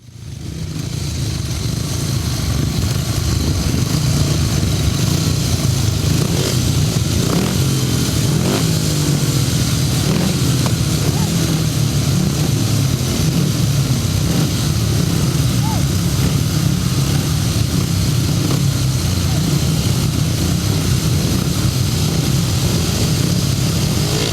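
Grasstrack racing motorcycle engines roar under power at a British under-21 championship, a steady loud drone held wide open throughout, with a commentator talking over it.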